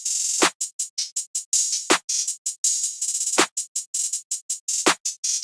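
Rapid, bright hi-hat hits run steadily, punctuated every bar or so by a heavier open hit with a low thump beneath.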